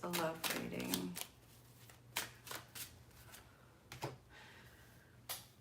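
A deck of tarot cards being shuffled by hand, a quick riffle followed by scattered soft slaps and flicks of cards, close and quiet with brief pauses between.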